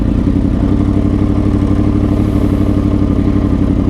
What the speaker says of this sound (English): Let's get a cold start going on this